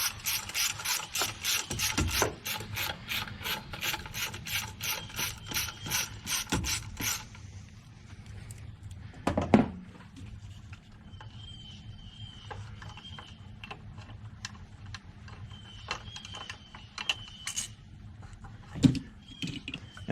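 Ratchet turning out the coil pack bolts on a 2007 Jeep Wrangler 3.8L, a close, fast run of metallic clicks for about seven seconds, then quieter shop noise with a couple of sharp knocks.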